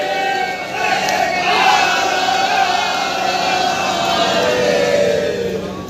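Large crowd at a Kashi Vishwanath model unveiling cheering and applauding for Manoj Tiwari, a loud sustained roar of voices and clapping throughout.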